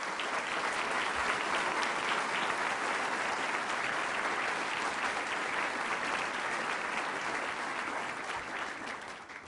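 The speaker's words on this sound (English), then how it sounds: "let's give him a round of applause" Audience applause at a State of the City address, steady dense clapping filling the room for about nine seconds and tapering slightly at the end, with no voices over it.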